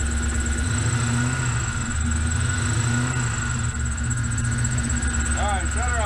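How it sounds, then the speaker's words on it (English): A 1967 Chevrolet C10 pickup engine running steadily up close, a low continuous rumble with slight rises in pitch as it is revved a little. "Rev it up a little."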